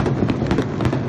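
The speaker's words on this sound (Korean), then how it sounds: "밤새 쏟아지는 폭죽 소리" Firecrackers set off during Chinese Spring Festival celebrations: a dense, continuous stream of sharp crackling pops and bursts, loud and close, with no voices.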